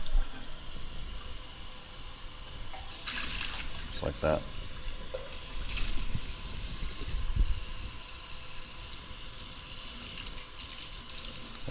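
Cold tap water runs steadily as a coffee dripper is rinsed at a sink, with splashing that swells and eases and a brief spoken remark over the flow.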